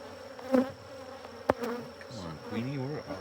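Honeybees buzzing around an open hive during an apiary inspection, a close, fluttering hum rising and wavering in pitch, with a couple of sharp brief knocks.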